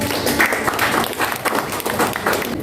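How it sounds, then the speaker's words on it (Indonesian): A classroom applauds a student group during a chemistry lesson with a dense, sustained wash of clapping that is near and loud, and a few voices mix faintly into it. "tepuk tangan untuk kelompoknya selanjutnya"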